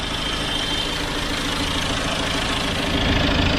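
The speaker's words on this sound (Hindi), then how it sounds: "प्रोग्रामिंग करने के बाद में हमने इस कार को स्टार्ट भी कर दिया है" A BMW 320d diesel engine idles just after starting, following an engine control module replacement, producing a steady, continuous, close rumble with even knocking texture throughout.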